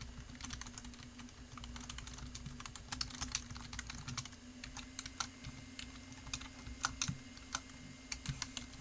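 Ctrl+Enter pressed on a computer keyboard during PLC programming in XG5000, rendered as quiet, scattered key clicks over a constant low hum of room noise, with no voices.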